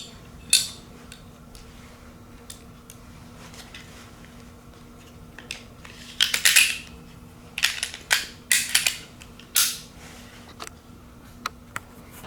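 A 2021 Springfield Hellcat pistol being reassembled after the barrel and recoil spring were removed, heard as scattered sharp metallic clicks and small snaps, with a tight cluster of parts clacking together midway and long quiet gaps between.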